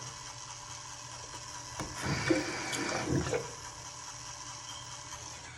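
Water splashing as skin is wetted during a self-care face routine, a couple of soft splashy bursts near the middle, close by, with no talking.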